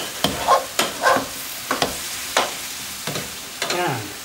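Lamb vindaloo curry being scraped and stirred in a pan: about seven distinct, evenly spaced scraping strokes, close and clear, over a faint steady sizzle with no talking.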